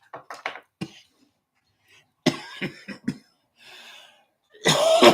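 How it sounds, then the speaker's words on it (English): A person coughing after smoking a joint: a quick burst of harsh coughs, a pause, a second cluster of rough coughs, a faint wheeze, then a loud drawn-out final cough, close and alone. "That's a paper cough."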